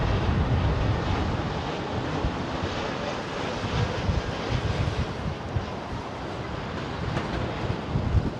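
A Middle East Airlines airliner at London Heathrow Airport gives off a steady broadband engine roar with wind rumble, constant and moderately loud at a distance, with no one talking.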